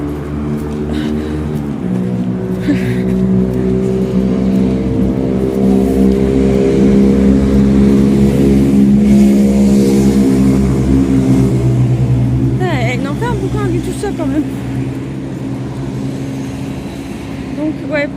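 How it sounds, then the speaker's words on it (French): A car on the road passes close by, its engine rising and falling across the pass as a loud rushing whoosh, with traffic noise throughout. "Attends, il y a la voiture."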